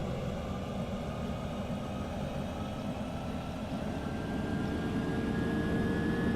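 Jet engines of an Airbus A380 in Flight Simulator X spool at takeoff, a steady, loud broadband roar with a faint rising whine that swells slightly toward the end, with no talking.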